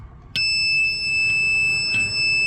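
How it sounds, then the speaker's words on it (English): A steady high-pitched electronic beep from a multimeter continuity test sounds close and clear, starting abruptly and holding continuously with faint clicks underneath. "when you make a connection with the other probe, it's going to make a beep"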